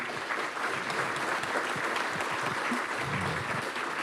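Audience applause after a panel talk on future aircraft materials and design, a dense steady wash of many hands clapping throughout, fairly loud and even with no voices over it.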